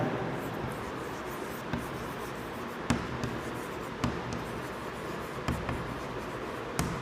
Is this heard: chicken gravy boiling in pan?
no